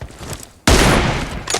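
A burst of gunfire from the mobile video game Battlegrounds Mobile India cuts in suddenly after a quiet moment, loud and sustained with a sharp crack at onset, alone without speech.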